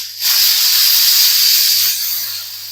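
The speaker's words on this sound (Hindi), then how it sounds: "तो सारा प्रेशर मैंने निकाल दिया है कुकर का" A loud, steady hiss of steam rushing out of a pressure cooker valve, released after cooking mixed dal with the flame off, for about two seconds, then easing slightly.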